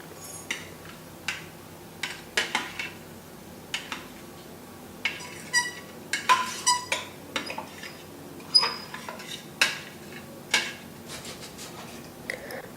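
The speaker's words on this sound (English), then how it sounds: "I'm just going to hand slice them" A knife slices vegetables by hand on a cutting board for a summer side dish, giving sharp intermittent knocks and taps in an irregular rhythm, close and moderately loud, with no talking.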